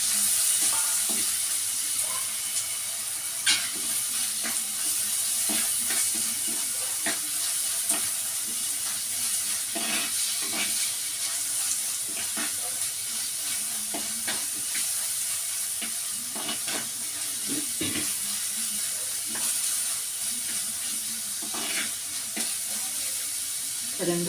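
Shallots fry in oil in a pan with a constant close sizzle and hiss, while a spoon stirs with scattered clinks and scrapes throughout.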